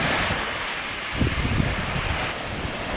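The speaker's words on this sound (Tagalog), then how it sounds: "talagang lakas ng hangin" Strong typhoon wind roars into the microphone over the crash and wash of large sea waves, loud and continuous throughout.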